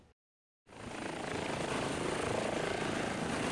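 A modified EC-135 helicopter's rotor and engine drone up loudly after a brief silence, holding a steady, close, pulsing roar.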